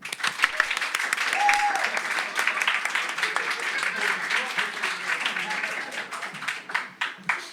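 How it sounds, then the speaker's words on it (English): Open mic night audience claps for a performer, a lively burst of applause with cheers and scattered voices, building then thinning toward a few lingering claps at the end. "So clap once more for Chris if you're registered to vote on July 4th"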